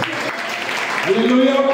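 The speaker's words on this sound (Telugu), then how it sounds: "గట్టిగా చప్పట్లు పడుతున్నారు." A church congregation claps loudly during Sunday worship, a steady wash of hands close and dense, with a voice singing or calling out over it through the second half.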